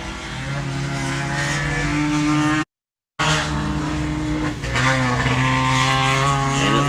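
1600-class buggies racing down a hill at an off-road race in Sturgis, South Dakota, a loud continuous engine roar with steady pitch and shifting revs, broken by a brief dropout.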